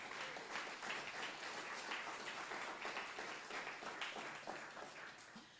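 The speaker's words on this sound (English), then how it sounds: "Please give yourself a well-deserved round of applause." Audience applause at a city address in Berkeley, a dense, even patter of many people clapping, heard from a distance and fairly faint, fading slightly at the end.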